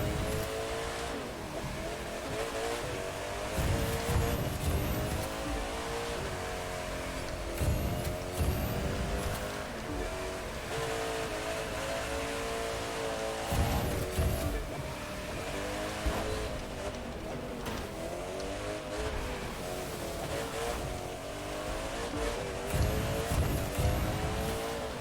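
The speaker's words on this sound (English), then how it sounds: "It's a drift car." A drift car in The Crew 2 running a downhill race, a steady engine drone with revving gear-shift swells and tire hiss continuing for the whole stretch, no talking.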